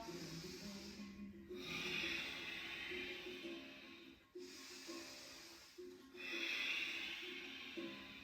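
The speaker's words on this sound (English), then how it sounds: "if you've done the Ujjayi breath, the oceanic breath" Slow, deep Ujjayi (oceanic) yoga breaths drawn through a constricted throat with the mouth closed, a soft oceanic hiss on each inhale and exhale, repeated at an even, relaxed pace.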